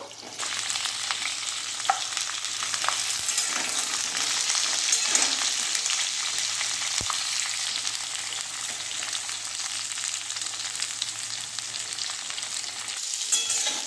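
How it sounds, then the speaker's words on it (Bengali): Pointed gourd (potol) pieces frying in oil in a pan with cumin and five-spice seasoning, a steady dense sizzle with occasional stirring clicks, close and continuous with no talk. "এবারে পটলগুলো দিয়ে দিচ্ছি। পটলগুলো প্রথমে ভালো করে ভেজে নেব।"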